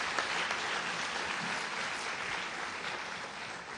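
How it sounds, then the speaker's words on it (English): Steady crowd applause at an awards luncheon for board chairman Leonard Collins, a dense, even roar of clapping hands that holds for the whole stretch with no voices over it. "let's give him a big round of applause"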